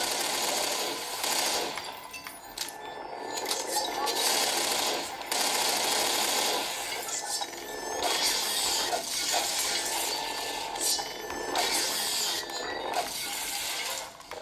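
Combat against manhacks in Half-Life 2 fills the space with whirring, buzzing blades and rapid mechanical rattling like gunfire, continuous and busy at mid volume with no talking.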